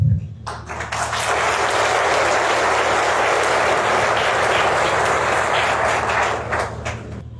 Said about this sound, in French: je vous demande d'applaudir à l'honneur de ceux que nous plairons